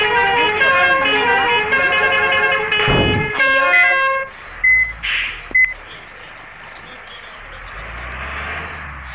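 Vehicle horns honk in a racing video game: a long held horn blast with tonal harmonics, then a few short separate beeps, followed by steady engine-like game noise, with a voice talking over parts of it.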